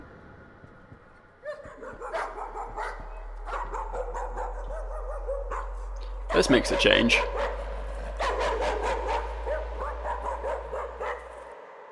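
A dog barks repeatedly in the video game Layers of Fear, with scattered barks and yips that grow into a denser flurry midway, all over a low steady drone while someone talks.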